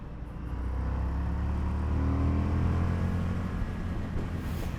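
A 2022 Indian motorcycle on a test ride, its engine droning low and steady with a swell of rising revs, heard close under rushing wind and road noise.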